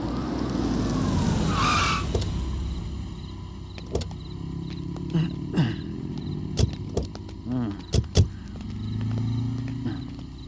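A car in a Hindi-dubbed South Indian film brakes to a halt at night with a brief skidding screech, followed by engine rumble and a few sharp knocks and clunks.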